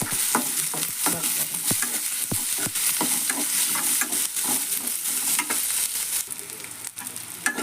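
Onions fry in oil for an egg curry gravy, a busy sizzle broken by frequent scraping stirs of the spoon, close and continuous with no voices.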